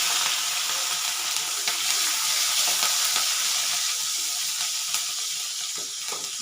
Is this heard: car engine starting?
no